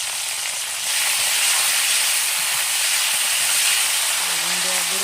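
Cauliflower pieces dropped into hot oil for a tilapia curry, a loud, steady, hissing sizzle that swells after the first second and continues evenly, with a faint voice near the end.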